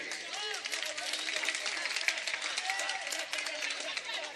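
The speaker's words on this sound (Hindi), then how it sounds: "एक बार ताली सभी हजरात शफीक भाई के लिए भी बजा दें।" An audience at a poetry gathering in Gunnaur claps for Shafiq Bhai, a steady patter of crowd applause with scattered voices and cheers mixed in throughout.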